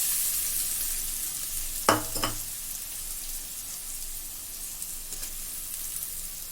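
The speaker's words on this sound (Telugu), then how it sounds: "కొబ్బరి యాడ్ చేసుకున్నాక 2 నిమిషాలు బాగా ఫ్రై చేసుకుందాం" Grated coconut frying in a kadai for jaggery coconut ladoo, a steady soft sizzle with a couple of sharp spatula scrapes near the start and a faint knock later; no talking.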